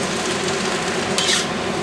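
Chicken stir fry with snow peas tossed in a pan, a soft steady sizzle with a brief scraping swish of food moving across the metal partway through; no voices.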